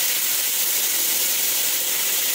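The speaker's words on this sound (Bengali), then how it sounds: "বেশ লাল লাল করে সুন্দর করে ফুলকপিগুলো আমি ভেজে নিই।" Cauliflower pieces fry in hot oil until well browned, giving a steady, dense hiss and crackle that carries on evenly throughout, close and fairly loud, with no talking.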